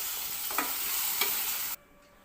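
Ingredients for a ridge gourd chutney frying lightly in a pan, a steady close sizzle with two soft stirring scrapes, cutting off sharply near the end.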